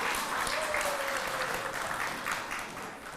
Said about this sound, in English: The Center County chapter, yes, a round of applause.